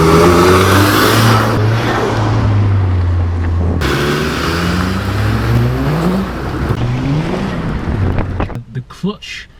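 A turbocharged Nissan Micra K11 1.3 engine fitted with a lightweight 3.4 kg Jun racing flywheel revs hard and loud close by, with a wind-buffeted drone. It drops away near the end into brief clunks.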